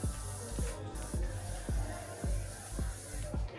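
Sunscreen sprays from a can in a series of about six short, close bursts, each a quick airy hiss, in a loose steady rhythm on a beach island trip.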